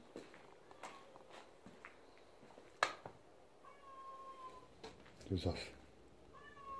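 Cats meow several times at moderate distance amid footsteps and shuffling, while a person speaks briefly nearby.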